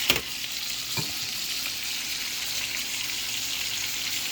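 A steak coated with blackstrap molasses fries on a hot griddle with a loud, steady sizzle, marked by a couple of sharp clinks near the start before the hiss settles in evenly.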